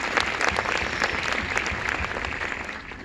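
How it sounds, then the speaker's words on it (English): Full theatre audience clapping before a documentary screening in Melbourne, a continuous close wash of applause that tapers off gently at the end. "I want to have an applause, please"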